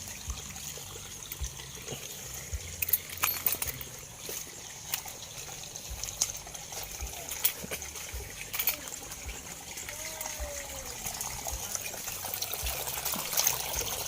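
Water trickles and splashes steadily into a tilapia fish pond, a continuous gentle flow with faint outdoor background noise.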